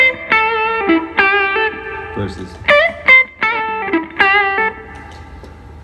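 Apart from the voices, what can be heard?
electric guitar played through a pedal's reverb setting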